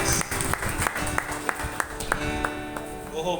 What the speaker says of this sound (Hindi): आइए हम लोग ताली बजा के परमेश्वर की स्तुति करें।